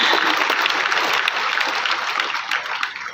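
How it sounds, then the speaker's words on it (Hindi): Gathered listeners applaud for passing, a thick round of many hands clapping close and loud, gradually thinning and softening over its last second. "पास हो तो ताली बजाना"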